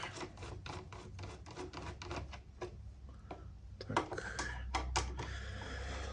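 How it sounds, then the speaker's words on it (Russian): Small screws being undone while a DATOU BOSS TY-PSW-4000 pure sine power inverter is taken apart, heard as a rapid run of dry rubbing, rasping clicks, close and fairly quiet, with no talking. "И стараюсь откручивать как можно быстрее."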